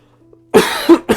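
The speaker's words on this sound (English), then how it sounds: "I'm getting a cough." Close, loud coughing in two bursts, the first a longer rough hack followed after a short pause by a second shorter cough, with no speech.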